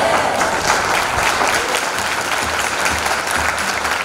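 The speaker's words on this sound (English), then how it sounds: "Are you going to clap loudly?" Loud, dense clapping from a large audience at a special school's silver jubilee celebration fills the whole stretch without a break, close and steady with no voices over it.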